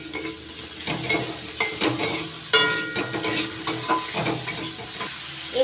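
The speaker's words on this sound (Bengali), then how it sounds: "আলুটা একটু ভেজে নিয়েছি লাল লাল হয়েছে এখন দিয়ে দিচ্ছি বেগুন বেগুন টুকরো টুকরোগুলো দিলাম অল্প নাড়াচাড়া করে নিয়েছি" Potatoes and eggplant pieces frying in a pan with a steady sizzle, broken by repeated scraping stirs of a utensil at close range.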